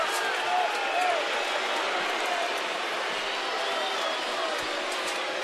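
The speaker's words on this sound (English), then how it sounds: "A vociferous crowd tonight, Jim." Loud, steady roar of a baseball stadium crowd during a night game between the Angels and the Orioles in Baltimore, a continuous wash of voices with no break.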